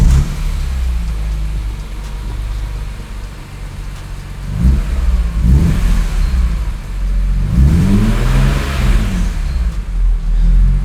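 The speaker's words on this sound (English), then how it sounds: "Let's go ahead and switch on the car." A 20-year-old BMW E46 M3 engine starts up and settles, then revs sharply twice in rising, falling sweeps, close and loud with a steady idle between the blips and no talking.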